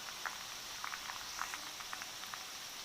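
Jackfruit pieces frying in boiling oil for Kerala-style chips give a steady close bubbling hiss with small irregular crackles and pops scattered throughout.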